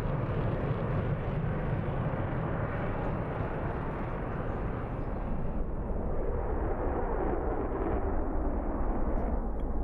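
A warbird's piston engine roars steadily at full power during takeoff in a flight simulator set in Iceland, a dense, loud, unbroken drone with no talk.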